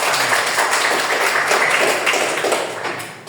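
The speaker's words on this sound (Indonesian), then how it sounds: "Sekali lagi tepuk tangan buat kita semua." A group in a classroom applauds together during a microteaching lesson, a dense, steady wash of many hands clapping nearby that tapers off toward the end.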